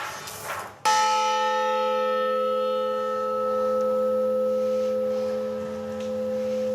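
A church bell struck once with a sharp clang, then a long, steady resonating hum with several sustained tones that ring on loudly and alone, slowly fading.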